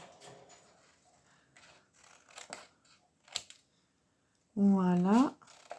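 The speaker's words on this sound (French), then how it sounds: "je vais couper ça" Scissors snip through paper while a haunted house craft is made, several short crisp cuts spaced irregularly and close by, followed by a brief burst of voiced sound near the end.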